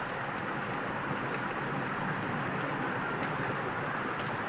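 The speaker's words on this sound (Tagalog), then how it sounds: "Ulan kayo." Heavy rain falls steadily in Gensan, a dense even hiss of drops drumming on surfaces around a jeep, continuous and close with no breaks.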